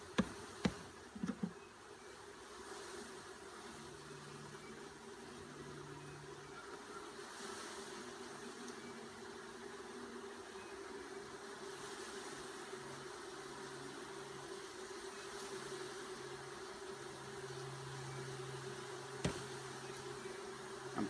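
Packaged honeybees buzz steadily during installation into a 5-frame hive, a continuous close insect drone with occasional louder passes of individual bees near the microphone, plus a few sharp knocks at the start.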